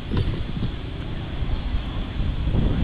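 Strong night wind in Quy Nhơn buffets the microphone as a loud, continuous low rumble with gusty surges and a few muffled thumps.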